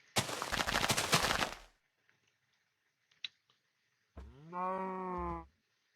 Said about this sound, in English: there's a cow there now